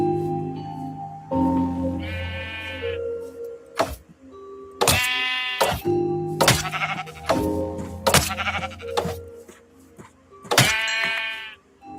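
Minecraft sheep bleat again and again in a video game, several wavering calls spaced across the stretch, fairly loud and close with soft game sounds between them and no talking.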